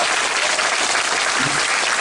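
Theatre audience at a musical's curtain-call stage greeting gives a full, even round of applause, many hands clapping loudly and continuously throughout.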